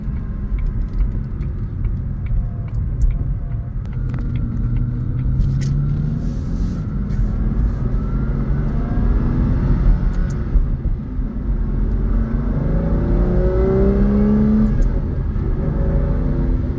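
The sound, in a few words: 2003 Aston Martin Vanquish V12 car driving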